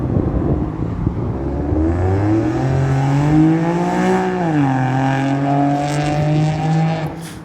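A car's aftermarket exhaust revs up and holds a raised, slightly trumpet-like drone that rises, dips and settles, loud and close throughout with no talking.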